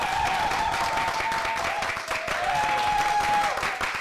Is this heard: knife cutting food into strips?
no